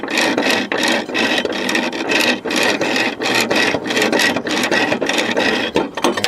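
A lawn equipment pulley is worked back and forth on a socket, giving rapid rhythmic scraping and rubbing strokes of metal, loud and close, with no talking.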